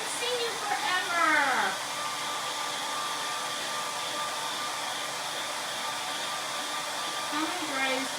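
A blow dryer runs steadily with a loud, constant hiss and whir that fills the space, while voices briefly chatter over it at the start and end.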